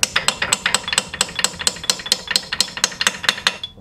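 Rapid series of sharp metallic hammer blows driving a socket onto a dirty nut during front suspension work on a Peugeot 407/508 or Citroën C5, about sixteen evenly spaced strikes, close and loud, with no talk.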